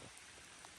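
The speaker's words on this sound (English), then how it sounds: "It is currently raining." Steady rain falling after a thunderstorm, a faint, even hiss of drops on surfaces throughout a very brief moment, with no voices.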